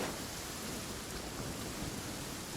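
Steady, dense rain in Genshin Impact hisses without pause, an even wash of noise that stays constant from start to end.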